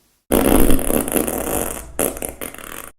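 A loud, sputtering fart goes on for more than a second, then two shorter bursts follow after a brief gap.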